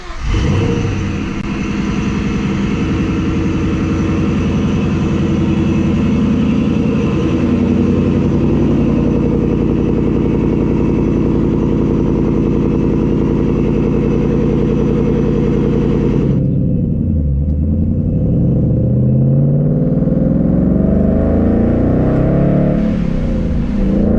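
Vortech supercharged Ford Mustang engine, close and loud: it fires and holds a deep, rumbling idle for about sixteen seconds, then drops and swells through several rising and falling revs.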